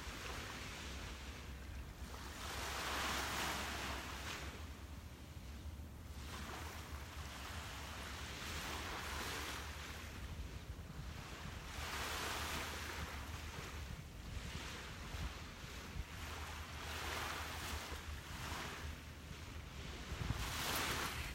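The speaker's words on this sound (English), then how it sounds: "take a look out at the water and soak in this beautiful view and listen to a couple more waves." Ocean waves roll onto a beach in a slow, regular rhythm, each surge swelling and fading, with steady wind and no voices.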